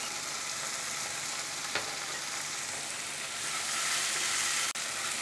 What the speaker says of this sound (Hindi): अब हम जो अदरक लहसुन का पेस्ट 1 चम्मच बच गया था वो हम डालेंगे। अच्छे से 2 मिनट भूनेंगे।